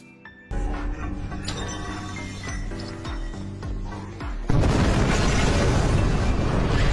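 A loud, sudden roaring blast from a car filled with petrol erupts in a film after a stretch of tense, busy soundtrack, then a sustained wall of rumbling noise.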